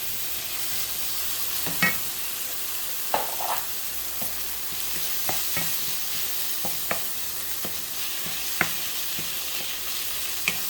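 Pork frying in a pan as shrimp paste goes in, a steady hiss of sizzling punctuated by intermittent scraping stirs and light clinks, with no talking.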